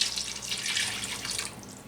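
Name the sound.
filtered water poured into a cooking pot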